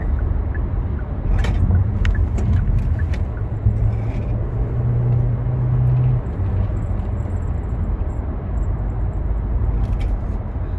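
Steady road rumble and passing traffic heard from inside a moving car on a busy road, a constant loud low drone with occasional faint clicks and ticks.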